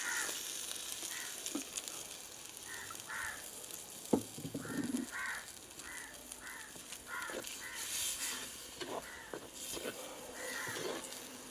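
A pan of chili powder masala with added water simmers with a steady sizzling hiss, while crows caw repeatedly in the background.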